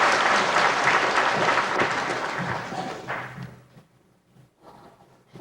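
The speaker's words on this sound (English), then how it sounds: "Round of applause for Peter." An audience at a 1992 grade 4 school spelling bee claps for a speller, a sustained burst of applause that thins out into a few scattered claps, moderately loud and without speech.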